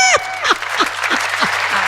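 An audience at a Hindi poetry recital claps in a short, dense burst that fills the room for under two seconds.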